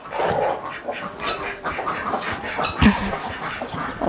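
Ducks and chickens being let out of a barn on a small Estonian farm, calling close by in a busy, overlapping chorus with one louder burst near the end.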